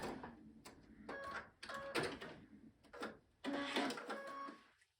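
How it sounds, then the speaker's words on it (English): A sewing machine stitches a quilt seam in bursts, its motor whirring with a steady mechanical hum that starts and stops several times, close and fairly quiet before falling silent at the end. "And then I take the pin out and I sew the rest of my seam."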